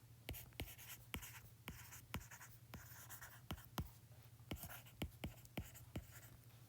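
Pen or marker writing out a physics problem on magnetic fields, with a steady run of sharp taps and scratchy strokes at an uneven rhythm, close and fairly quiet, no talking.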